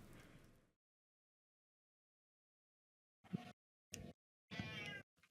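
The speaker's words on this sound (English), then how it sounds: "That's a cat." A single cat meows in three short, close bursts after a long silence, with an earlier brief sound at the start, in a quiet indoor setting.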